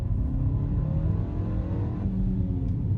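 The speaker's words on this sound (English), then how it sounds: "I still think the engine sounds pretty good." Engine of a 2025 Mini JCW Countryman heard from the cabin with its artificial speaker sounds switched off, a steady low rumble and drone that holds even and fairly loud with no talking over it.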